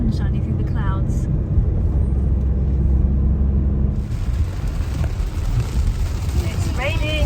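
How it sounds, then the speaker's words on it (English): Dense, roaring wash of heavy rain and road noise inside a moving van in Bosnia, loud and continuous, with brief voices and squeaks on top. "Oh, it's absolutely slinging it down."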